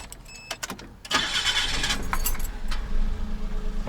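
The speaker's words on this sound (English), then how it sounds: "Let's go ahead and start the engine." Keys jingle briefly, then a Suzuki Jimny JA22W engine cranks and catches at about one second, settling into a steady, loud idle.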